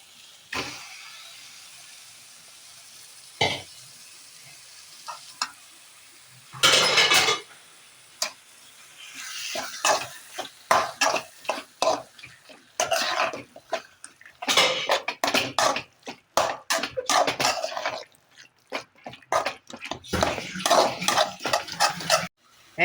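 Chicken being sautéed and stirred in a pan, with irregular close metal spoon scrapes and clinks against the pan, some bursts longer and busier, under a faint sizzle with pauses between.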